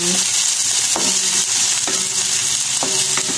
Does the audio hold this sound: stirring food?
yes